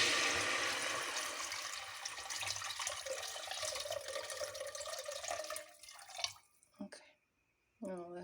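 Water is poured into a hot pan for polenta after garlic has been cooked in it, a rushing, hissing pour that runs for several seconds, then breaks into a few short splashes and trickles with brief silences between them.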